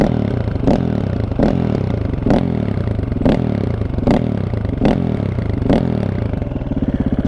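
A KTM 525 EXC motorcycle engine on its stock exhaust runs loud and close, with a throbbing idle broken by regular rev bursts roughly every half second.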